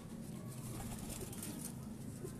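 Pigeons at a breeder's loft, kept as a hobby, coo softly and steadily over a low, constant background murmur with no talk.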